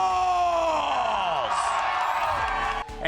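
A large esports arena crowd at a Valorant match roars and cheers loudly throughout, a dense wash of yelling voices that dips briefly near the end.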